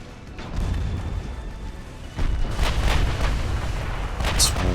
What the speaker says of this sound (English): It's one torpedo detonation, one dud. She has a good ammo detonation.